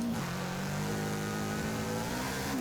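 Toyota GR86 engine in Forza Horizon 5 holding a steady, loud mid-pitched drone with a slight rise in revs throughout, a continuous in-game engine note with no talking.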